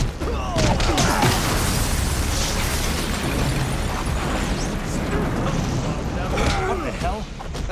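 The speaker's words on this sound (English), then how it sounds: "That explosion came from the shower room." An explosion rumbles through the Watchmen: The End Is Nigh video game as a dense, loud booming roar that fills the whole stretch, with character voices over it.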